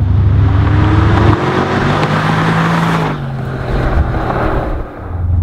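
Loud V8 engine of a tuned Porsche Panamera Turbo with a Capristo exhaust and Prior Design kit, 600 hp, droning and rising in steady revs, then shifting as the car accelerates, close and continuous.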